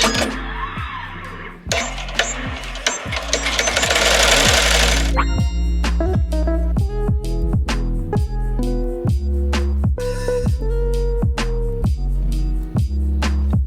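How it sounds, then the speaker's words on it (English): An embroidery sewing machine runs an applique tack down stitch around fabric backed with Heat and Bond Lite on a kids' shirt: loud, rapid, steady mechanical stitching with rhythmic clacking, close by and with no talking. "we'll push start, and it's gonna do the tack down stitch."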